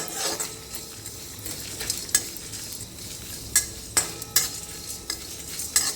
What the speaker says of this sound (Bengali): চলো খুব ভালো করে খুঁটিটা নিয়ে নাড়িয়ে নেবো